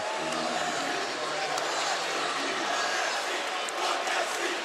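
A basketball arena crowd during a USC vs UCLA game lets out a sustained, loud roar of disapproval over a call, a dense wall of voices that stays steady across the whole stretch.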